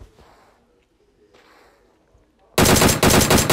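Gunfire in the shooter game PUBG: after a quiet stretch of faint background noise, a loud burst of rapid automatic shots erupts and rattles on, with a brief gap in the middle.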